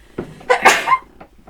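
A person sneezes once, close to the microphone: a brief intake and then a sharp, breathy burst in a quiet room.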